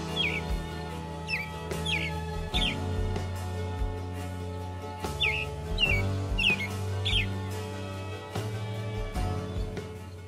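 An American robin calls repeatedly outdoors, short clear chirps coming in small clusters over a steady low background hum, moderately near and unaccompanied by speech.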